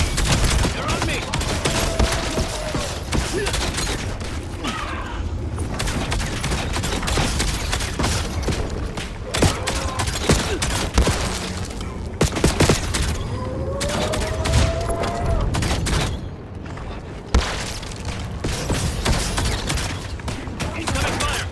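Dense, continuous gunfire from a Black Ops 7 match, with bursts of automatic fire and shots layered into a loud, steady barrage across the whole stretch, and brief voices calling out over the shooting.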